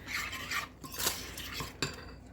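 Baked apple filling being mixed in a bowl with a utensil, a few short scraping and clinking strokes of metal against the bowl, close and fairly quiet, with no voices.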